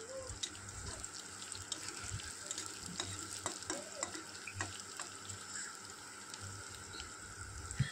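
Chili and onion frying in mustard oil give a steady crackling sizzle throughout, with occasional stirring and light clinks of a utensil against the pan, and no talking.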